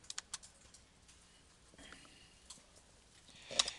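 A few keys tapped on a computer keyboard to enter numbers into a formula, sparse close clicks with a cluster at the start and a sharper tap near the end.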